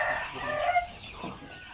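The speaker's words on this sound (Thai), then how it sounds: "อันนี้ก็จะเป็นลูกไก่บ้านแล้วก็ มีลูกไก่ สามสายเลือดน้ำนะครับ" Farm chickens and chicks call at close range, mixed clucks and high cheeping overlapping in a busy, continuous chorus during an evening at a poultry farm.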